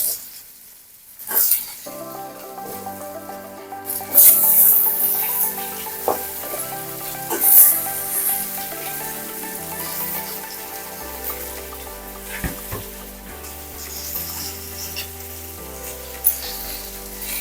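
Tomatoes and broad beans sauté in a pan for a thokku, with a moderate sizzle beneath a sustained musical tone, punctuated by a few loud bursts and clanks of stirring.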